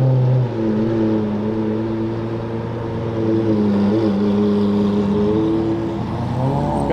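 A Lamborghini Aventador supercar at a gas station holds a deep, steady engine drone with slight rises and falls in pitch, loud and close throughout with no talking.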